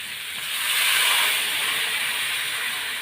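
Water poured into a pan of frying potatoes sets off a steady, bright hiss and steam that swells within the first second and then holds at a slightly lower level.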